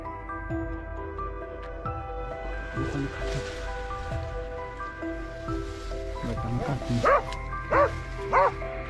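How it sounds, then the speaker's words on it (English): Hunting dogs close in on a wild boar near a rice field on a Texas farm. A low, steady background runs throughout, then several loud, close barks come in quick bursts toward the end. "the sudden barking of hunting dogs signaled the beast's location"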